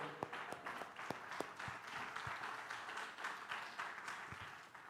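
A church congregation claps in warm, scattered applause, many hands patting irregularly at moderate distance, some claps sharper and nearer than the rest.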